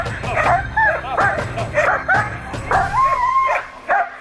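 Police dog of the gendarmerie, a tracking dog in pre-training, barking in repeated yips and whimpering barks at close range, clustered in bursts with brief pauses, no talk over it.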